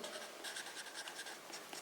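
Chalk scratching across a classroom board during a soil-texture lesson, a steady series of short scraping strokes, close and fairly quiet, with no talking over it.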